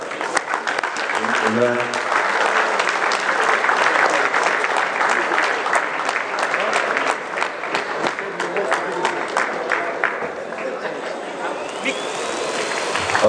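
A big crowd claps warmly at a closing ceremony. The applause is full and sustained and rolls on throughout, with a speaker's voice briefly audible over it near the start.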